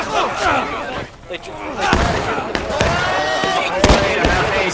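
Pistol shots crack out in a Civil War video game battle as Confederates charge, several sharp reports at irregular intervals over a dense, noisy mix of game sounds, with a voice talking.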